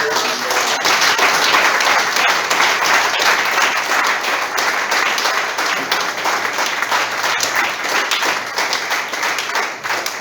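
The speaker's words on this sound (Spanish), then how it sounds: "denle un fuerte aplauso al Señor" A church congregation applauds loudly and continuously, close and dense clapping lasting about ten seconds, with voices faintly mixed into the crowd.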